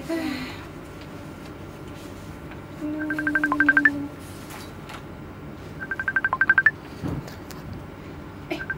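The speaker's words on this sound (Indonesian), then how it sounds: "Ada telepon." A telephone rings in two short trilling bursts a few seconds apart, over a steady low background hum.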